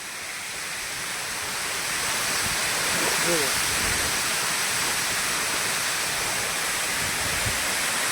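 Water rushes from the opened overflow gates of the Shetrunji dam at Palitana, a loud, broad continuous roar heard from close by that swells slightly and holds steady.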